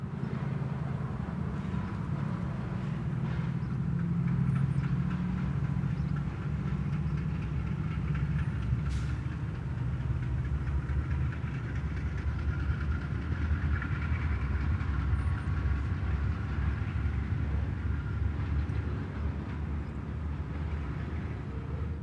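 A P&W freight train rumbles steadily along the tracks in eastern Connecticut at a moderate distance, with low engine drone and faint rail noise throughout, no voices.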